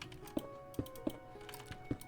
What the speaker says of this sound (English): You're gonna hear a lot of right mouse clicks from my sensitive microphone